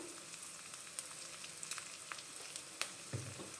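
Ingredients for restaurant-style gobi rice fry in a pan with a faint, steady hiss and crackle, broken by scattered small pops and light stirring scrapes.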